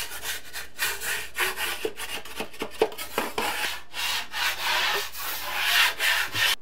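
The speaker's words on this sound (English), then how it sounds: "So just go along, scrape any of that stuff, clean it all up before you start mudding." Scraper dragging across a wall to clear dried drywall mud in a stairwell storage area renovation, with close, rough scraping strokes in an uneven rhythm and no talking.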